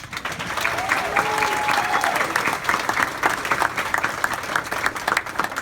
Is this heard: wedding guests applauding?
yes